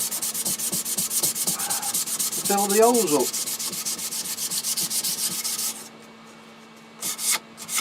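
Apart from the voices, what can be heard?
sanding wood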